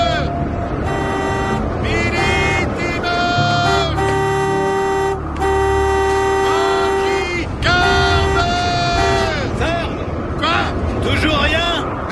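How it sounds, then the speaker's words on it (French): Loud, sustained car horn blasts, several long honks in a row with short breaks, over a busy background and voices. "Et ne t'arrête pas de klaxonner."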